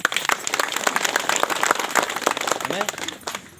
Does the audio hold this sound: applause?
yes